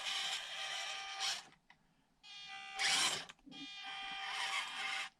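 Small electric motor of a HobbyPlus CR-18 1/18 RC crawler whining at low speed, a buzzing gear drone in two long runs with a short break and a brief burst between.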